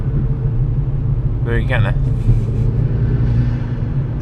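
A warmed-up MK5 car engine idles with a steady, low rumble close by. A voice briefly speaks over it about halfway through.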